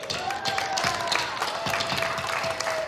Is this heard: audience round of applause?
yes